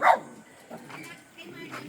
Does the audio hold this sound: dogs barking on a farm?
yes